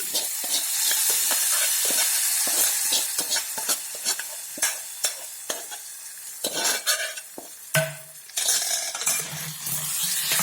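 Hot tempering crackles and sizzles as it goes into a mango neer gojju, with repeated sharp pops and spatters. Metal spoon and pot clinks break through the steady frying hiss, close and fairly quiet.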